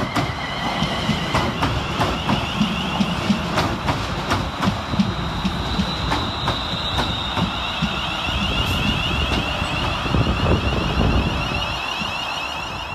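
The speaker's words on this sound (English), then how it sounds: "Three 50 371 now makes its return, working the 1534 West Midlands Railway service from Walsall to Wolverhampton." West Midlands Railway Class 350 electric train running through Bescot Stadium station, a steady loud rumble with wheel clatter and a faint high whine, continuous throughout as carriages pass close by.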